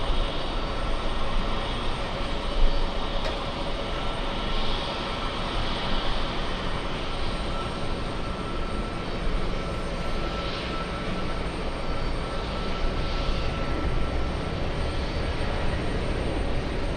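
Steady broadband roar of a Qantas Boeing 787 jet airliner's engines at JFK airport, loud and continuous throughout with no voices.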